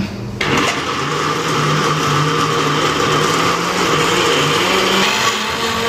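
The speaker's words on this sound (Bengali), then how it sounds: "এখানে হচ্ছে রসুন আর এই যে আদা, এটা ব্লেন্ডার করা হচ্ছে।" An electric blender grinding garlic and ginger, switching on abruptly and then holding a loud, steady motor whine to the end.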